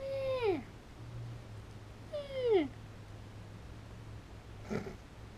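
A cat at a cabin meows twice, each call a clear descending whine a couple of seconds apart. A faint third sound follows, over a quiet background with a low steady hum.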